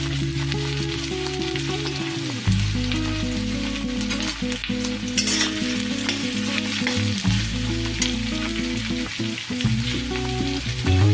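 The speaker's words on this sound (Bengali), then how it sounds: "এবার বাকি তেলটার মধ্যে আমি পেঁয়াজ কুচিগুলো দিয়ে দেব।" Chopped onions crackle and sizzle loudly in hot oil left from frying potatoes for a mutton curry, a dense close hiss with stirring scrapes, alongside a steady background hum that cuts out briefly now and then.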